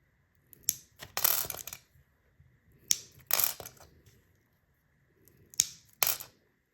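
Cut pieces of glass for fused glass earrings are snapped in half by hand, three separate bursts of crisp cracking and crunching with short quiet gaps between, close and clear.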